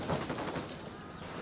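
A gunshot in Ghost Recon: Wildlands: a brief, muffled crack near the start, fading into a noisy, washed-out game backdrop.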